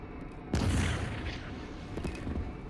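Heavy artillery fire and explosions in the mecha action game Project Nimbus, with a loud boom erupting after half a second and a sustained rumbling, crackling roar of distant blasts continuing afterward.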